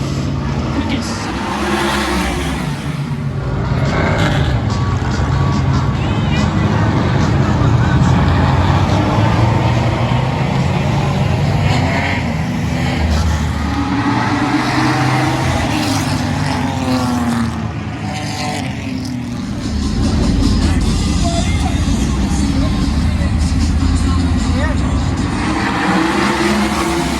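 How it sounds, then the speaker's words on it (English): Sprint cars race in the trophy dash at Western Speedway, a continuous loud roar of engines revving and passing that surges and fades over the lap, with voices underneath. "Running out onto the speedway for the final trophy dash of the evening. The sprints."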